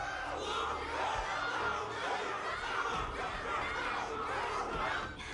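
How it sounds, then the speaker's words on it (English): A crowd cheers for Luka at a Honkai: Star Rail wardance arena, a steady roar of many voices shouting and hollering at a moderate distance, with a few deeper thumps underneath. "Can't you hear? Everyone's cheering for you,"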